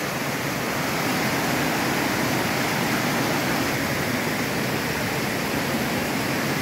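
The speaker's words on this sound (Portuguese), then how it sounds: "Cascata da Solitária" Cascata da Solitária, a waterfall beside a rock wall in Igrejinha, Rio Grande do Sul, Brazil, pours with a steady, dense, close roar of rushing water that holds even throughout, with no voices.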